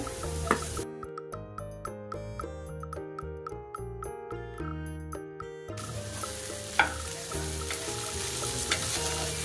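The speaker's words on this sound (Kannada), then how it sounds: "ಹಾಗೆ ಈಗ ಬೆಂಡೆಕಾಯಿನೆಲ್ಲ ಹಾಕೊಳ್ಳೋಣ" Okra drops into a hot pan and fries with a steady, close sizzle and a few stirring clinks, partly covered by background music through the middle.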